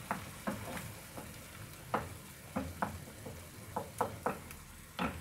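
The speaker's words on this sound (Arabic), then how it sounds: "انا درت هنا الماء يغلي" Water bubbles in a pot on a kitchen stove while lasagne is being made: a steady sizzling hiss with scattered, uneven pops and clicks, heard close up with no talking.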